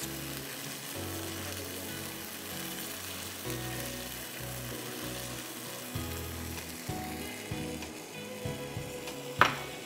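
Mutton frying in a pan with chili powder, salt, turmeric, coriander powder and roasted crushed cumin gives a soft continuous sizzle under background music, with a sharp scrape near the end.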